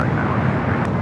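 A jet airliner landing on runway 24 right at Los Angeles International Airport, a loud, steady broadband roar that holds at the same level through the brief moment.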